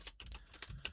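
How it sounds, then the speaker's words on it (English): Quick keystrokes on a computer keyboard, a short burst of about six close clicks with no speech. "I'm going to type something that cannot be converted to either one."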